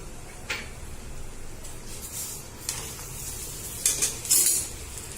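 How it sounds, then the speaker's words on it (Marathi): Sugar going into semolina sheera in a pan, with a few light scraping and clinking touches of a spoon against the metal over a steady low background hiss, louder clatter near the end. "साखर टाकूया"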